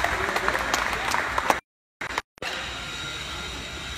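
A studio audience on a Supergirl set applauds steadily in a dense wash of clapping; the sound cuts out abruptly twice in the middle before resuming at an even level.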